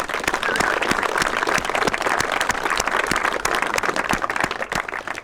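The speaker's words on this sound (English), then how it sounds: "big round of applause for them" A crowd at an outdoor spring farm festival with a fishing competition gives a big, steady round of applause, dense clapping sustained for several seconds at close range.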